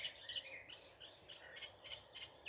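A reed warbler gives a faint run of repeated chattering, scratchy notes outdoors at a distance, in bursts separated by short gaps over a quiet background.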